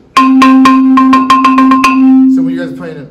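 A marimba bar struck on the edge rings out in about a dozen quick, loud, close strokes at a steady pitch, followed by a voice talking as the last notes fade.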